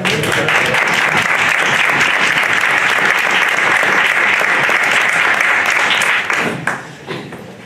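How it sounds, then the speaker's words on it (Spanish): A lecture audience gives strong applause before a talk on the enigma of mummies, a dense, steady burst of clapping that lasts several seconds, then quickly thins out and stops. "Así que os dejo con su fuerte aplauso."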